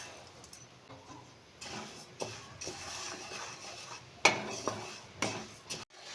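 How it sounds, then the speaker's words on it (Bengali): Moong dal dry roasting in a dry pan over low flame, giving a soft scraping, rustling stir with occasional sharper clinks of utensil on metal, close and moderately loud with no talking. "প্রথমে আমি শুকনো খোলায় ডালটা ভালো করে ভেজে নেব।"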